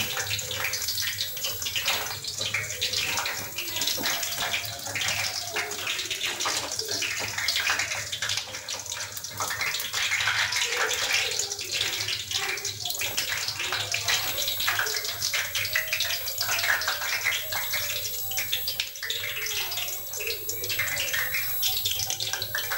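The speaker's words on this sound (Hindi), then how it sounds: "रोल हमारे बहुत अच्छे से फ्राई हो गए गोल्डन।" Yogurt rolls fry in hot oil, giving a steady dense hiss and crackle that stays loud and close for more than twenty seconds.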